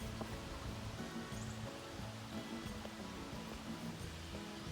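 Rushing water from the waterfall at Waterfall Creek near Maroon Dam, a steady, broadband wash heard from a distance that holds even and continuous throughout without any pause or break.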